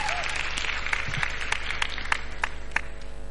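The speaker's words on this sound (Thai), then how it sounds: "ขอเสียงปรบมือให้กับทุก ๆ คนหน่อยกำลังใจ" An audience at a televised singing-competition audition show applauds in a steady, lively stream of many hands clapping, loud and close and continuing throughout.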